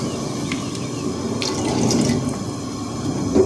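Water being poured into a pot of chana dal while cooking, a steady close splashing flow with a few brighter drips and gurgles, rising slightly midway.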